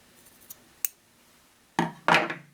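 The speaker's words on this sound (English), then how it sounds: "We carefully snip this loop open" Scissors snip a loop of loopy yarn open, two crisp close cuts near the end following a couple of faint earlier clicks, in a quiet room.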